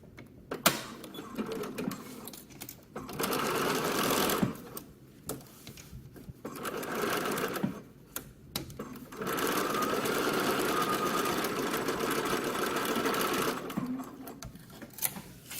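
A sewing machine stitches a shoulder seam on a Butterick 6994 summer dress, running in several sustained bursts with short quiet pauses between, steady and close with no talking.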